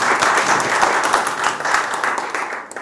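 Sustained audience applause at a Yadav employees society meeting, dense steady clapping from a crowd filling the whole stretch, loud and close, fading slightly at the end.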